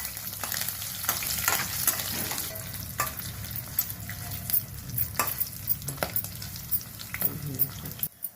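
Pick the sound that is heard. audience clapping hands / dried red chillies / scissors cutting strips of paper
dried red chillies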